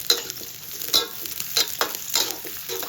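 Garlic and onion are stirred together in a hot pan, a steady sizzle of frying broken by repeated scraping strokes of the spatula, close and clear with no talking.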